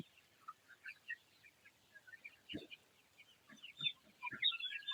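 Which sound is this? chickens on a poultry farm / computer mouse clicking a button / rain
chickens on a poultry farm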